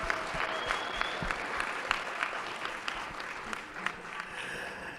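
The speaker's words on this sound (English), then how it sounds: "Could we have another round of applause of Thanksgiving for Canon Sierra and Mother Kim?" A diocesan convention audience gives a round of applause to honor two clergy members: sharp individual claps stand out over a sustained, fairly close crowd clapping that continues evenly throughout.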